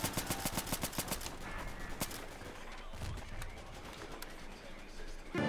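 Automatic gunfire in a Garry's Mod roleplay firefight, a quick string of close shots at the start followed by a scattered crackle of shots under low background noise, with faint voices.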